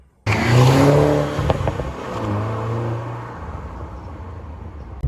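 A Mini John Cooper Works hot hatch engine starts loud and revs hard, settling into a steady driving drone with shifting pitch, close and continuous.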